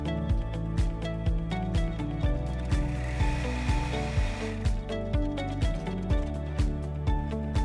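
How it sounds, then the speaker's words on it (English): Embroidery machine running a placement stitch on a hooped ready-made patch, a steady rapid mechanical chatter of needle strokes with regular rhythmic pulses, close and continuous throughout. "We are now going to run our placement stitch on the machine."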